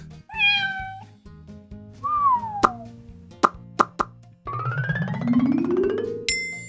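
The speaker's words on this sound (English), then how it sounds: "A cat!" A cat meows clearly amid a sequence of cartoonish sound effects, including pops and plinks, in a bright, close, playful mix.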